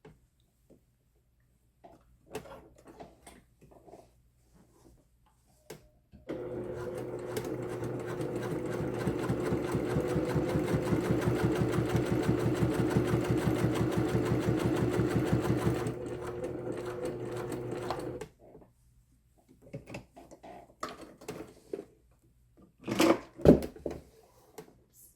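A Brother PQ1500SL sewing machine with a freshly reassembled tension assembly stitches steadily for about ten seconds, a fast even whirring rhythm close by, framed by quiet handling clicks and small knocks before and after.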